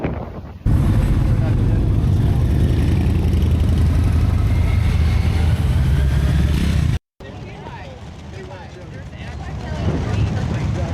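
Motorcycles at the Americade rally by Lake George, many of them Harleys, rumble as a loud, steady engine drone with a brief cut partway, while someone talks over the noise.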